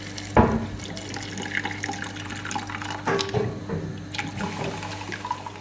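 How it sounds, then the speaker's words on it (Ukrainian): Vinegar poured into a container holding rusty keys, a splashing, gurgling stream of liquid with a sharp initial splash and uneven pulses as it fills, close by and with no talk. "Наливаємо оцет."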